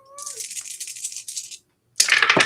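Dice clatter and rattle across a hard surface for over a second, then after a short pause another loud, close rattle of rolling dice.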